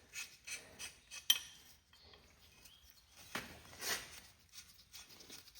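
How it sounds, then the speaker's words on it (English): Lug nuts come off a Cub Cadet tractor wheel with faint, close metallic clinks, rasps and scrapes in short irregular bursts separated by quiet gaps. "So we're going to take the lug nuts off."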